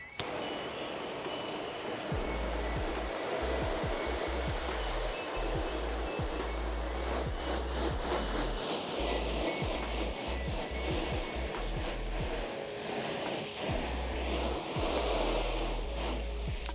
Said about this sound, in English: We're gonna rinse this off.